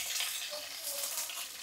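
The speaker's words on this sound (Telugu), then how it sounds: "ఇవాళ కొద్దిగా ఆనియన్స్ వేస్తున్నాను." A small amount of onion sizzles in hot oil for a chicken biryani gravy, a steady, soft crackling hiss that stays even throughout this short stretch.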